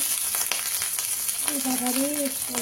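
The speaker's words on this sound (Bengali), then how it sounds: "এখানে আমি মাছ ভাজা বসাই দিছি।" Fish seasoned with salt, turmeric and chilli fries in a pan, a steady bright hiss of sizzling oil with a voice speaking over it partway through.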